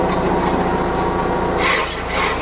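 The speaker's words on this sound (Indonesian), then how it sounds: "Sengaja saya pilih tebu untuk uji coba ini untuk membuktikan bahwa mesin koper ini bisa mengeksekusi batang-batang keras" A grass chopper machine shreds hard sugarcane stalks, its engine running in a loud, steady roar with a gritty cutting texture and a brief surge of higher, harsher chopping near the end.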